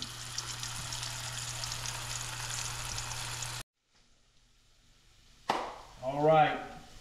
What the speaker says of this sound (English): now we're gonna drop them in our oil. Nice and hot.